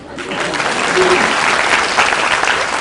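Audience applause in a talk on career and life planning, a steady dense wash of clapping from many hands, loud and continuous throughout, with a faint voice mixed in.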